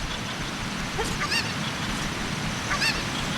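A cucco chicken in Zelda: Ocarina of Time gives two short squawking calls about a second and a half apart, moderately loud over a steady game background hum.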